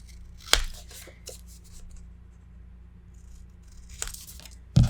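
Scissors snip the corners of paper pieces for a mini album, a few quick close cuts separated by quiet handling and rustling.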